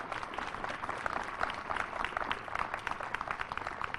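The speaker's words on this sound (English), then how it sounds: "Let's give that a round of applause." Applause from an audience at a bell dedication ceremony, a moderately distant, fairly quiet stretch of scattered clapping that continues steadily throughout.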